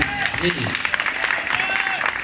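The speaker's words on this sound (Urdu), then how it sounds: "اگر اجازت ہو تو تالیاں والیاں بجا کے استقبال کر لیں" An audience at a mushaira, an Urdu poetry gathering, applauds to welcome a poet: a steady, dense patter of clapping filling the hall beneath a voice speaking over it.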